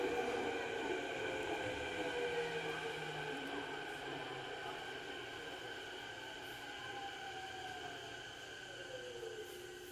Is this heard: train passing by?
yes